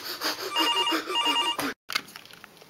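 A cartoon telephone rings in a steady electronic trill, two bursts of ringing, then a brief cut to silence and a quieter room afterward.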